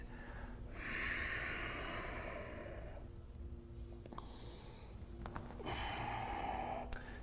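Deep, slow breathing during a yoga stretch, with two long airy breaths separated by a quieter pause, faint and close.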